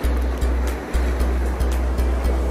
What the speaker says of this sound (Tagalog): Dahil lumalakas din yung alon eh.